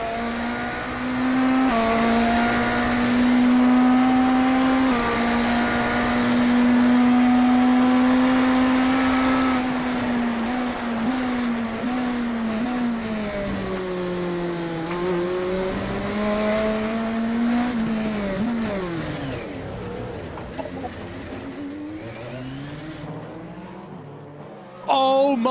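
A GTP race car in the IMSA Esports Global Championship video game on a wet Long Beach street circuit: a sustained, high engine drone that rises and falls with shifts and braking, loud and continuous throughout.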